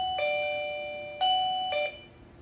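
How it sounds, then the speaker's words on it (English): Life Alert caregiver pager playing its ding dong ringtone: three clean electronic chime tones, close and loud, ringing out alone with a short decay after the last note. "it sounds like ding dong."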